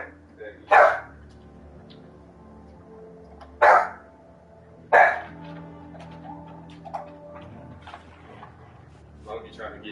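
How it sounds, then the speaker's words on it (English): A dog barks three sharp times at roughly three-second intervals, fairly close, with quieter indoor background noise and a faint yip between barks. "Who are you barking at? Stop barking."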